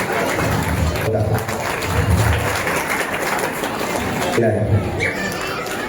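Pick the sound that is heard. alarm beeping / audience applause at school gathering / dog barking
audience applause at school gathering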